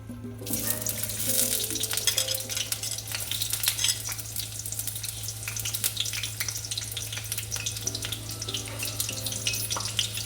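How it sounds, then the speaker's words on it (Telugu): Onions deep-fry in a kadai of hot oil with a continuous bubbling sizzle and scattered crackles, steady and fairly close, with no voices. "ఆనియను ఇంకా కొద్దిగా ఫ్రై కావాలండి"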